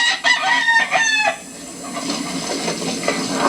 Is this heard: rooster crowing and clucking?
yes